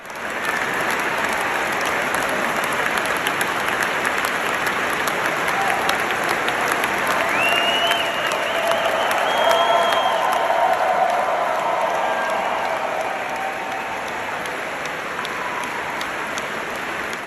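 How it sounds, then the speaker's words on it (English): Audience at a Federalist Society 40th anniversary event applauding steadily for the whole stretch, a dense, even wash of clapping with a faint crowd murmur underneath, loud and sustained without breaks. "here's another angle of the applause as well"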